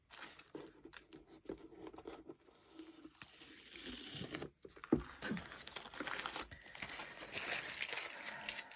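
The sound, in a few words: peeling masking tape off a painting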